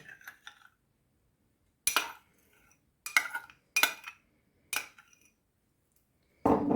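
Metal utensil clinks and scrapes against a bowl while salad with mayonnaise is mixed, coming as several separate bursts of clattering with quiet pauses in between, close up and with no talking.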